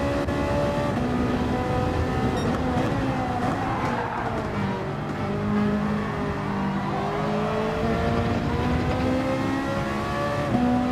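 A Ferrari race car engine in Gran Turismo 7 holds a steady, sustained high-revving drone, its pitch rising and falling through gear changes and corners, with faint tire sounds underneath.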